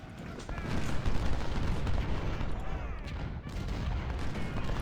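Artillery booms and rifle fire from a Civil War battle video game set at a river crossing roll on continuously, dense and loud, a steady barrage of overlapping shots and blasts with no pauses.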